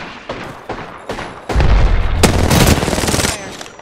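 Weapon fire in the battle royale game Apex Legends: a few single shots at first, then a loud, dense burst of rapid gunfire and impacts that ends abruptly near the close.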